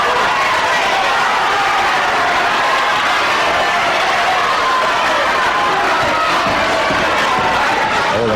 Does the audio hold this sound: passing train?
no